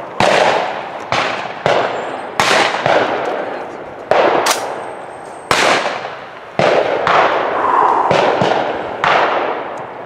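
Shotgun blasts at a sporting clays range, a dozen or so sharp, loud cracks in an uneven rapid sequence, each with a short ringing decay.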